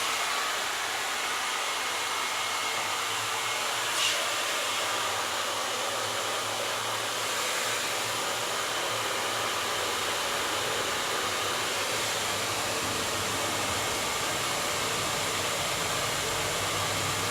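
A hair dryer fitted with a diffuser blows on high heat and low volume: a steady, loud, broad rushing hiss that runs unbroken for the whole stretch, close and with no talk over it.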